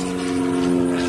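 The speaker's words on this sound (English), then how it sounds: "Now planes are coming over, cars are going by." A steady droning engine hum from an aircraft passing, continuous and fairly loud throughout, with no voices.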